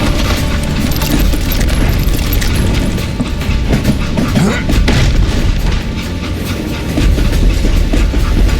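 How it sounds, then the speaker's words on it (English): A train rumbles along rails in the Western video game Call of Juarez: Gunslinger, with a loud, continuous clatter and roar punctuated by heavy booms. "It was then that Jesse detached the express car from the rest of the damn train."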